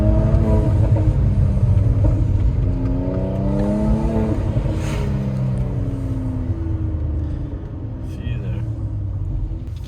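A car engine revs high in low gear, its pitch climbing and wavering before the throttle is released; a steady loud rumble runs throughout with no talking.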